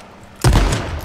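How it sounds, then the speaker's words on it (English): A single shotgun blast fired in a video game, one loud sudden boom with a short rumbling tail, close and alone. "That's a shotgun."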